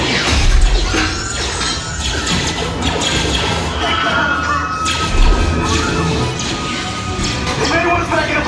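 Blaster fire and crashing effects on the Star Wars Rise of the Resistance ride fill a loud, dense ride soundtrack, with bursts and thuds continuing throughout alongside shouted voices.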